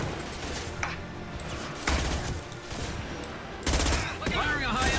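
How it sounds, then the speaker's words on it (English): High-impact gunshots from Mass Effect 2: two loud, sharp bursts of fire rise out of a steady hum of game ambience and mechanical noise, with fainter rattling between them. "Firing a high-impact shot"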